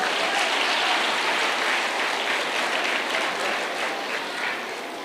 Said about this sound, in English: Makofi kwao tafadhali.